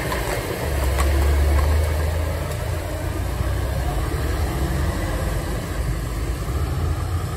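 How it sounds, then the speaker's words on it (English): A big truck rolls past on a wet road, a steady broadband tyre hiss over a low engine rumble that swells early and then holds, with no talking. "another truck is coming down"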